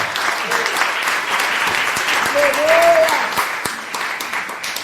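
A church congregation claps steadily and fairly loudly throughout, with a few voices calling out over the applause.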